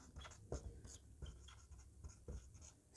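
Quiet scratching and scraping of writing during a Class 10 maths lesson, faint strokes in a low steady rhythm over soft room noise.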